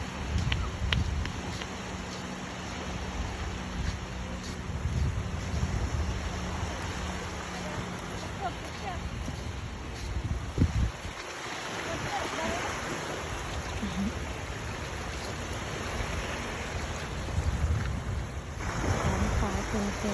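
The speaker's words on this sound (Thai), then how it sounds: "หาดจอมเทียนพัทยา" Waves wash onto Jomtien Beach in Pattaya under steady, gusting wind, a constant broad roar of surf and wind buffeting with no talking.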